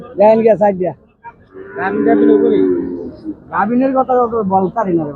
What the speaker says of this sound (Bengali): বেশ সুন্দর কিছু মাংসের গরু দেখা যাচ্ছে